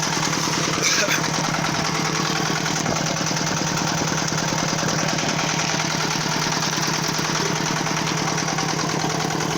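A motorized sprayer's small engine runs steadily while urea solution is applied to garlic rows, a loud continuous buzzing drone with no pauses.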